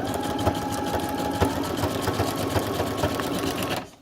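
A sewing machine runs a zigzag stitch on fabric for a Halloween pocket craft, a loud, steady, rapid mechanical chatter with rhythmic needle knocks that winds down at the very end.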